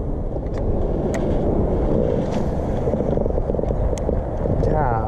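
Wind buffets the microphone while kayak fishing on open water, a loud constant rumbling roar with no gaps over the whole stretch, and a voice is faintly heard under it.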